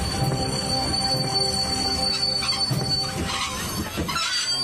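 A train pulls into a station, with rumbling rail cars, a sustained high wheel squeal and tonal brake whine, loud and steady before easing off near the end.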